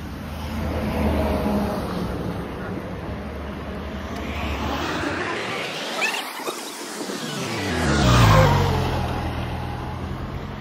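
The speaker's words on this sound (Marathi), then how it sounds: "किती फास्ट गाड्या नेतात रे" Vehicles speeding past on a road near Shrivardhan, each one's engine swelling from a distance to a close whoosh and fading away, with a loud pass-by near the middle and another toward the end.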